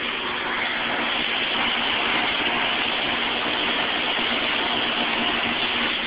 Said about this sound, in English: Scroll compressor.